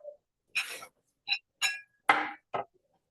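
Spoon and dish clinks as garlicky sweet potato and kale mash is plated, several short bright taps and scrapes in a row, close and fairly quiet with silence between.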